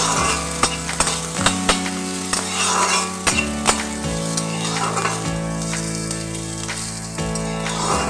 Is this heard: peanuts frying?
yes